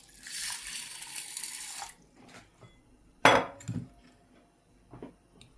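Water is poured over sugar for shakar para, making a short bright splashing pour lasting about two seconds, then a few utensil clinks and a scrape nearby in an otherwise quiet kitchen.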